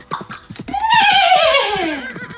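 A group of voices imitating a horse neighing together, one long whinny-like call that rises and then falls away, loud and close, after a few short bursts of vocal clip-clop sounds.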